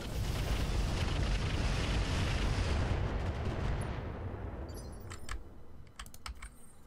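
Mech weapons firing on a Centurion in the BattleTech game: a heavy, sustained barrage roar that slowly tapers into a lower rumble, with sharp metallic ticks and clicks toward the end.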